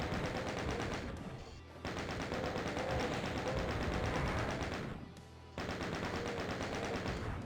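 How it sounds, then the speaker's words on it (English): Rapid, dense gunfire from the super shotgun in Doom II, loud and nearly continuous with two brief dips between volleys, no talking. "we will start using the super shotgun."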